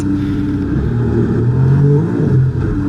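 A racing-game car engine held at full throttle, a loud steady drone that climbs gradually in pitch as it accelerates, close and alone.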